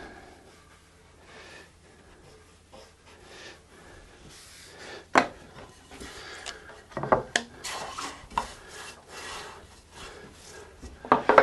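A wooden guitar fretboard is radius sanded with sandpaper, giving repeated raspy rubbing strokes that build from faint to louder, sharper passes in an irregular rhythm, with no talking.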